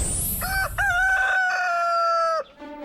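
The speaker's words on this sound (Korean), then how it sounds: "우렁찬 닭 울음소리가 울려 퍼지는 이른 아침." A rooster crows once, long and loud at close range, on an egg-laying chicken farm in the early morning; no voices accompany it.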